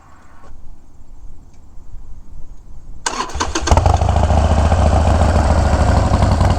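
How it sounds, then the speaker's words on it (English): A motorcycle engine cranks and catches, then settles into a loud, steady rumbling idle close by, with no one talking. "here's the bike. I guess I can start it up for you guys too."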